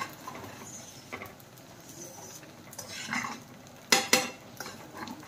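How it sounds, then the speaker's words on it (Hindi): Ghee heating in a pot while being stirred, faint clinks and scrapes of a utensil against the pot with two sharper knocks near the end over a quiet background. "घी को भी गरम करते तो बार बार चलाना पड़ता है थोड़ा"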